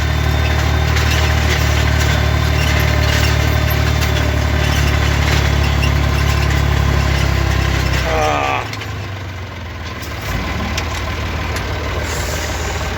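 A farm tractor engine idles steadily and loud in a field while tilling land after shallow ploughing, a deep constant drone that drops in level partway through as a door or cab sound intervenes.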